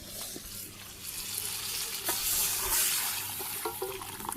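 Vegetables sauté in a pan in a Bangladeshi village kitchen, a soft constant sizzle with faint stirring scrapes and clinks, quiet and close.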